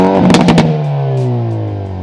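The engine of a 2022 Hyundai i30N Fastback revs hard through its exhaust, opening with a few sharp crackling pops before settling into a loud, steady, gradually falling drone, close and alone.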